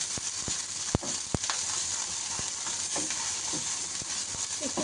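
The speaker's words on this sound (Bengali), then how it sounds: "একটু নেড়ে নিচ্ছি।" Ginger paste frying in a pan while being stirred, heard as a steady close sizzle broken by a few sharp clicks and taps of the stirring utensil.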